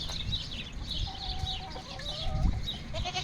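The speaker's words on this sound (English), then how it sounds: "And my chickens are right beside the goats." Chickens cluck and squawk in repeated bursts on a farm, kept beside goats in the shade, with a steady background hum and one sharp thump near the end; no one speaks.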